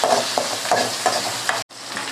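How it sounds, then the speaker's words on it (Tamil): Onions with curry leaves sautéing in a pan for chicken curry, a loud close sizzle broken by several stirring scrapes, cutting out briefly near the end before resuming. "கருவேப்பிலை போட்டு இந்த வெங்காயத்தை நல்லா வதக்கி விட்டுக்கலாம்"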